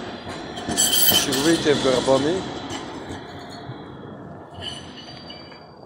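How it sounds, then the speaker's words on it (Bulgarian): A tram passes close by on a city street with a rumble, clinking and a brief wheel squeal, then fades away while someone speaks over it. "И да изчакаме, естествено, трамвая."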